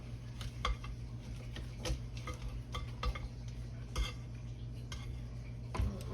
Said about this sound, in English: I'm gonna scrape this down here.